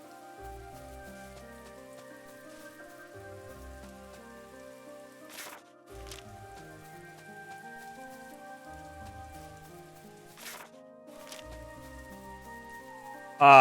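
Steady, soft rain falls over the city of Tormund in the video game Chained Echoes, a continuous patter under gentle tonal game music.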